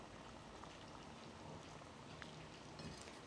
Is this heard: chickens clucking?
no